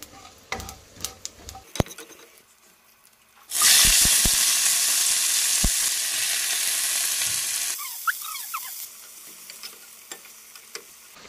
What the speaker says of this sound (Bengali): আর এখানে কড়াইতে এখন তেল দিয়ে দিয়েছি। এখন 5 ফোড়ন দিয়ে এখন এখানে পালং শাক বসাবো।